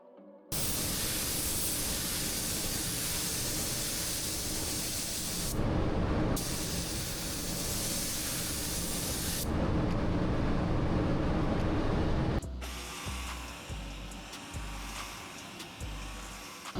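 Spray gun applying BASF paint onto a spray-out card. Loud, close hissing comes in three long bursts separated by brief pauses, then quieter shop noise with low thuds follows.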